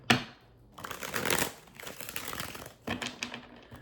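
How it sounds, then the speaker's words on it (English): A deck of tarot cards is shuffled close by, giving a sharp riffle, then a longer crackling flutter of cards and another short burst of shuffling, with no talking. "Let me shuffle it again."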